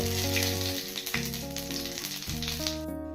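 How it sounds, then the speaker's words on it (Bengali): Two bay leaves temper in hot oil in a wok, a soft continuous sizzle beneath loud background music with sustained tones. "এবার তেলের মধ্যে দুটো তেজপাতা ফোড়ন দিলাম"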